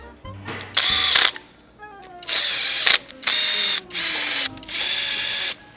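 A power tool drives bolts on a car engine during a repair on an imported car, several loud bursts of whirring, each about half a second, separated by short pauses and faint clinks.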